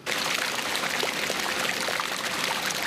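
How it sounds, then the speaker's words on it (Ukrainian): Water pumped out of flooded bomb shelters gushes in a steady, hissing stream, close and continuous with no pauses, and no voices. "Відкачують воду із укриттів."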